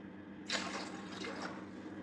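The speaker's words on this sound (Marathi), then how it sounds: "कुकरमध्ये आपल्याला आता पाणी घालायचं आहे" Water pours into a pressure cooker sitting on a gas stove, a sudden steady gush starting about halfway through and filling continuously over low kitchen hum.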